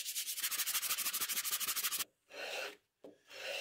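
A wooden part for a homemade band saw is sanded to remove table saw cut marks, giving about two seconds of fast, rhythmic, close-up abrasive rubbing, then two shorter bursts separated by brief silences.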